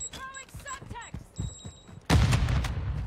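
Video game gunfire with incendiary rounds: a voice talks briefly, then a sudden, loud, sustained burst of shots cuts in and keeps going to the end.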